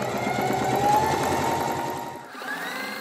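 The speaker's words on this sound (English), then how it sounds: "So let's just sew through this real quick." A sewing machine stitches through tulle fabric for a tutu in a quick, close, rhythmic whirring run that stops briefly and then starts again.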